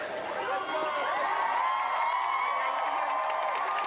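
A protest crowd after a campus encampment was dismantled cheers as officers leave, a dense distant roar of voices and whoops running steadily throughout.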